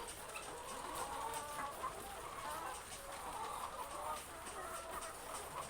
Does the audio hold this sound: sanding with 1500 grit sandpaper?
no